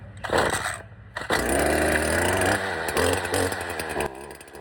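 A free second-hand gas weed eater's small two-stroke engine is primed, choked and pulled, then catches and roars to a loud, steady buzzing run that holds close up with slight wavering as it warms.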